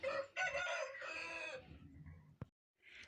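Chickens cluck and squawk close by as they are let out into snow, a busy burst of harsh fowl calls that fades, followed by a short sharp knock and a brief quiet.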